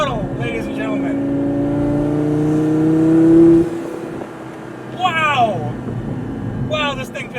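A Lamborghini sports car pulls away at quarter throttle, its engine note climbing smoothly for a few seconds before lifting off, followed by excited voices.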